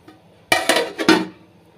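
A plate set down as a lid over a pot of simmering tamarind kuzhambu gives a few close, bright clinks and a ceramic clatter in quick succession.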